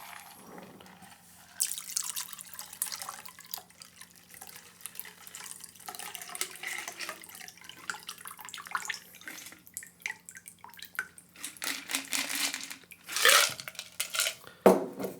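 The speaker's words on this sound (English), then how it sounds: "I'm going to strain this, not double strain, just regular. I'm going to pull the strainer back just to hold the ice in." An Emerald City Cosmo cocktail is poured from a shaker through a strainer that holds back the ice. A thin stream of liquid splashes and drips into a glass up close, with faint clinks near the end.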